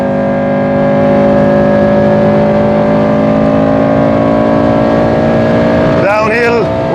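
A Honda K20 VTEC engine revs hard and steady up close on the Nordschleife, a loud continuous drone that holds its pitch before a brief shout breaks in near the end.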